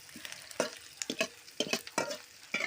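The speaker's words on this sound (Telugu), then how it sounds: "ఆనియన్స్ని దోరగా వేయించుకోవాలి బాగా ఇట్లా వేయించుకోవాలి" Onions frying in hot oil for onion rice, stirred until golden brown: soft sizzling beneath a series of close, quick spatula scrapes and taps at irregular intervals, fairly quiet overall.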